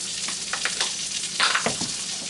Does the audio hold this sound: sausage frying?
yes